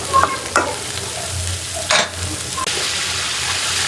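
Shrimp sautéing in a pan with steady broadband sizzle and a few sharp scrapes and clinks of a spoon stirring, close and fairly loud, with no talking.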